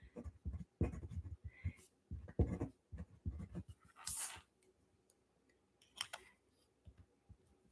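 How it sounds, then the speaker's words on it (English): A pen writes a note by hand on paper in a quiet room, a run of short faint scratching strokes in bursts, then a few sparse rustles. "I'm going to take a note because I want to remember to look this up"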